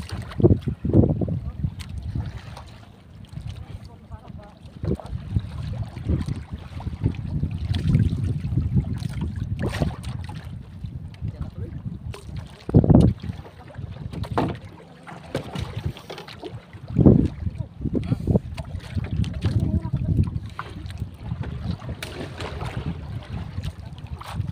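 A small boat out on open water gives off low, uneven rumbling and splashing, with wind buffeting the microphone and occasional bumps, heard from close by over about twenty-five seconds.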